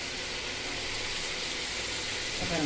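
Onions and tomatoes sautéing in a pan with ginger-garlic paste and salt, for a chicken gravy to go with biryani, giving a steady, close, loud hiss with no pauses.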